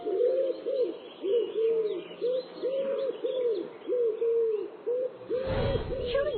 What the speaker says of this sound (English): Hearing the loud noise of the pigeons